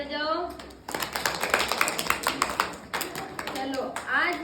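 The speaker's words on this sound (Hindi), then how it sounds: "ताली बजाओ।" A group of young children clap their small hands in an uneven burst after a storytelling session, with a voice speaking in Hindi at the start and end.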